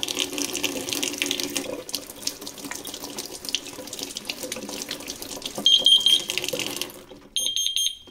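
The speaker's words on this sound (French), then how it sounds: "On va tester aussi avec de l'eau qui coule par en haut," Water from a tap pours onto a water leak sensor in a kitchen, a continuous splashing hiss, and the sensor answers with shrill, steady electronic alarm beeps near the end.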